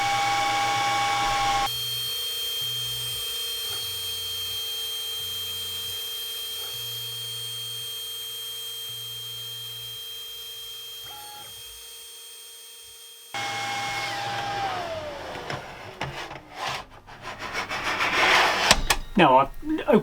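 Creality Falcon2 Pro 60W laser cutter running a job under its closed cover, a steady tonal hum from the extractor fan with periodic low pulsing tones, then clattering handling noises as the run ends.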